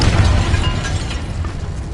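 A Confringo fire spell bursts in Hogwarts Legacy inside a tomb, a dense rumbling explosion with heavy low boom that lingers and slowly fades over two seconds, without speech.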